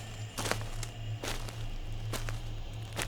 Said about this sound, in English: I heard footsteps at the back of the cabin.